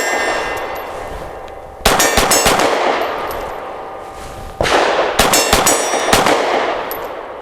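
A Grand Power P1 Ultra pistol fires outdoors in two quick strings of several loud, sharp shots, each string ringing out and decaying before the next burst.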